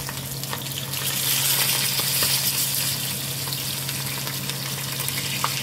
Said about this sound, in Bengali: এগুলো যে পমফ্রেট, আমি নর্মাল যেই মশলা আছে সেগুলো দিয়েই করেছি